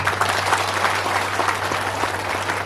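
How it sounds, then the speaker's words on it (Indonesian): Steady applause from an audience at a political speech on a regional budget, dense clapping filling the whole stretch with a constant low hum beneath it. "Tepuk tangan"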